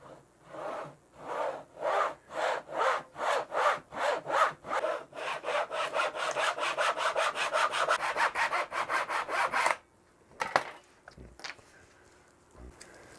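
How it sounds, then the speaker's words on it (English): Hand saw cuts through wood while making the nut for a custom electric guitar, about twenty-five rhythmic rasping back-and-forth strokes that speed up, then stop, followed by a few handling knocks, close with no talk. "We'll just start cutting our nut first."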